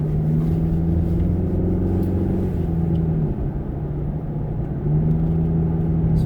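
A car running on Kumho Crugen HT51 all-season tires gives a steady low road rumble and engine drone from inside the cabin, continuous and fairly loud, with a slight dip in the middle and no talking.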